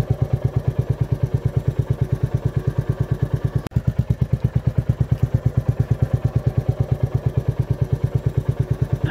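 A new Royal Enfield motorcycle idles close by, its single-cylinder engine thumping in a steady, even beat with one brief knock partway through.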